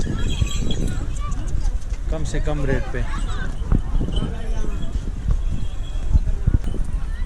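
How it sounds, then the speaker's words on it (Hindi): Horses clop along a park path in Isfahan, Iran, with scattered hoof strikes under someone talking and general outdoor crowd babble. "ये देखिए यहाँ पे घोड़े भी हैं, घोड़ों की सवारियाँ भी हैं।"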